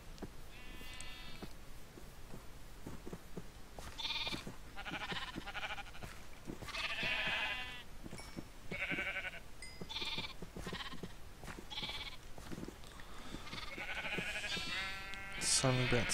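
Sheep in Minecraft bleat repeatedly in short harmonic calls, some overlapping, mixed with other farm animal sounds and game noises, while someone talks over them throughout.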